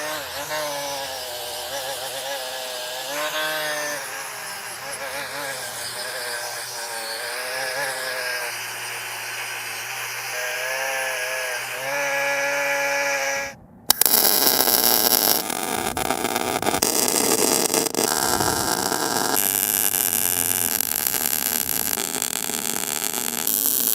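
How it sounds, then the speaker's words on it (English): A welder fuses metal parts for a DIY edge sander outdoors on a windy day. After a humming tonal stretch, a loud, continuous crackling buzz kicks in suddenly and carries on with brief stutters. "we'll fire up the welder and burn these guys on"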